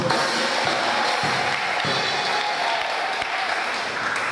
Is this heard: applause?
yes